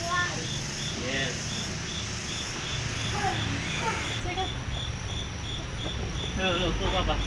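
Singing cicadas call in a steady, evenly pulsed buzzing chorus that runs throughout, with faint voices of people searching for them underneath.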